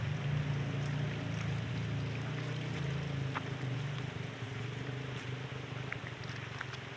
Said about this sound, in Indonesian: Yang terdengar hanya suara gemericik air sahabat.